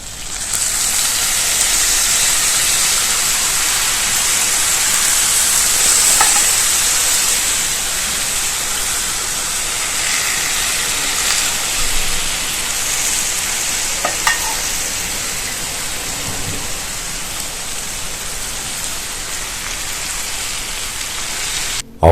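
Cold syrup poured over hot pistachio baklava straight from the oven crackles and sizzles in a steady, dense hiss that runs without a break, with a few faint clicks and knocks and no talking.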